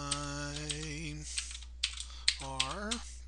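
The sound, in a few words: typing on a computer keyboard in Octave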